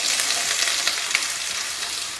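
Chopped small onions frying in hot oil in a home kitchen pan, a steady bright crackling sizzle that stays loud and continuous throughout, with no voices.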